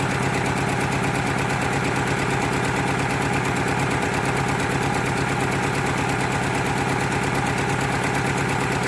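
A 1990 Eagle Talon TSi engine idles roughly after sitting for 19 years, a loud steady close rumble with an uneven pulsing, knocking character throughout.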